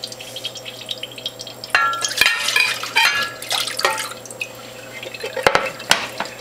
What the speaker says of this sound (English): And the juice that's in the folding tray, I'm going to pour into the collection container.